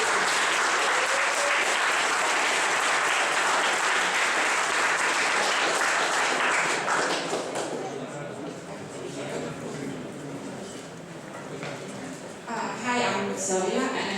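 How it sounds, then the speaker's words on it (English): A startup weekend audience gives a big round of applause, loud and dense for several seconds, then thinning into scattered clapping with talk underneath before a final short burst. "can she please get a big round of applause from everybody?"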